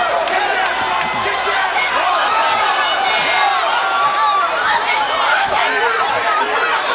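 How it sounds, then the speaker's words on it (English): Lively crowd at a Hawaii MMA fight, a dense steady wash of chatter, cheering and laughter that fills the whole stretch, loud and close. "Josh Hinger getting the crowd excited here."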